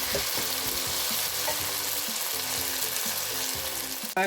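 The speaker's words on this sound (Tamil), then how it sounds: "கருவாட்டோட உருளைக்கிழங்கு அவிஞ்சிருக்கு, நல்ல டேஸ்டாக இருக்கும். ஒரு நிமிஷம் வதக்குவோம்." Anchovies and boiled potatoes are sautéed in a pan, giving a steady, loud sizzle and frying hiss with repeated scraping stirs, close up and alone.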